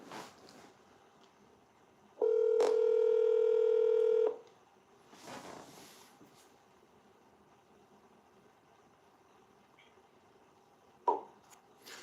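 A telephone keypad sends a steady two-second dialing tone, followed by softer clicks and handling noises and a short beep near the end, all fairly close and clear.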